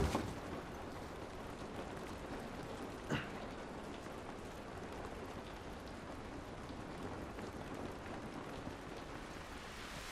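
Steady rain falls in The Last of Us, a dense even hiss that runs unbroken the whole time, faint and distant, with one small tap standing out partway through and no talking.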